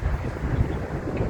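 Steady wind buffets the microphone with a low, rumbling roar throughout during an outdoor tennis game, no voices present.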